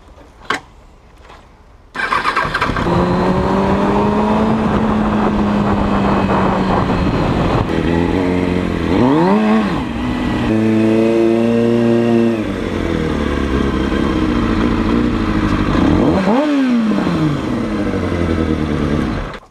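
A Kawasaki Ninja motorcycle engine starts up after a brief quiet moment, then idles loudly and revs repeatedly, pitch climbing and falling in several sharp blips before settling back to a steady idle, close to the listener.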